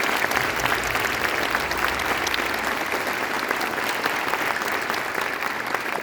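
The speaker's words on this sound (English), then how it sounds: "Give this students one more round of applause" A school auditorium crowd gives steady, dense applause for a middle school honor band, sustained clapping throughout with no talk.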